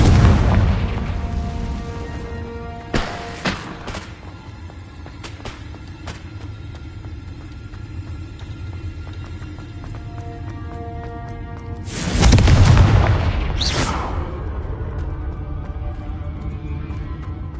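Confringo blasting spell explosion effect: a deep boom opens, sharper bursts follow near 3 seconds, then a second loud blast around 12 seconds, each with a rumbling tail over a low droning background.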